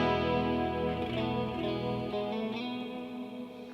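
An electric guitar tone shaped by effects pedals, played through a Kemper rig, rings out as thick, sustained chords with chorus and distortion, loud and steady with no talk.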